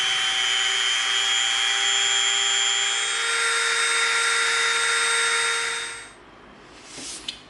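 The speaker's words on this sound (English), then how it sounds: "Now we're going to come in with our Dremel, and we're going to Dremel out this trench" A Dremel rotary tool whines at high speed, cutting a trench into EVA foam for about six seconds before spinning down, followed by a brief scraping rustle.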